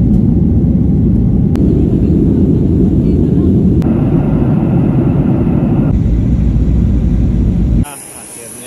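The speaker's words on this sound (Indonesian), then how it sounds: "Kita naik pesawat Lion nih ke Biak." A Lion Air passenger airplane on a night flight to Biak produces a loud, constant low engine rumble that fills the cabin, then drops away abruptly to a quieter hum near the end.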